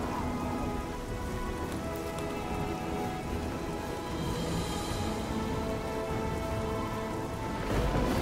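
Steady rain pours down in the Oblivion game world, a dense continuous patter of drops with a faint low rumble beneath, unbroken for the whole stretch and without talk.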